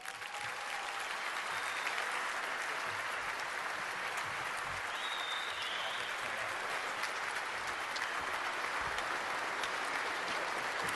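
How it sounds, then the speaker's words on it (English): An audience at an award presentation in Detroit applauds Mike Utley, a dense, steady wash of clapping that holds at full strength for the whole stretch with no voices over it. "Will you please give a round of applause to Mike Utley?"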